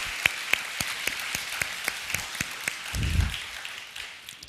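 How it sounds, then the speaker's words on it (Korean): Congregation clapping in thanks to God at a church service, a brisk patter of hands with some loud close claps, briefly joined by a low rumble near the end. "다시 한번 하나님께 감사의 박수를"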